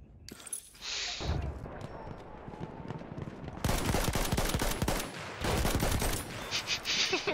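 Battlefield 1 video game gunfire: repeated loud bursts of shots and explosive cracks, dense and rapid in the second half, mixed with game noise and excited voices talking over it.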